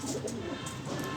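A Teddy pigeon coos close by, a short, soft, throaty murmur lasting about a second against quiet surroundings.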